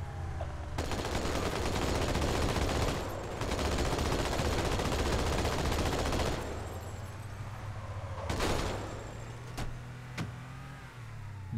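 Gunfire in the video game Halo 2, with two long stretches of rapid loud shots and then several sharp single cracks over a vehicle engine hum, with no talking.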